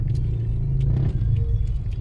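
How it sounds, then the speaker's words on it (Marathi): Steady low engine rumble of heavy, slow-moving road traffic near metro construction work in Kalyan, continuous and close with faint clatter over it. "सध्या ट्रॅफिक तर भरपूर ट्रॅफिक, खूप ट्रॅफिक आहे सध्या"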